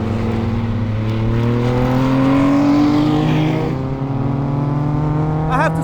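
Westfield Se.NA R-T, a light 7-style track car without power steering, drives with a steady engine drone and harmonics rising gradually under acceleration, loud and close throughout, with a short chirp near the end.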